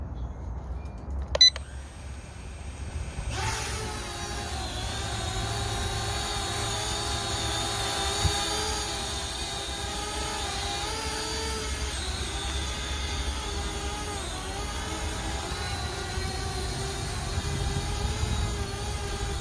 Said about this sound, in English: I'll do a little quick test run to show you guys how this drone would operate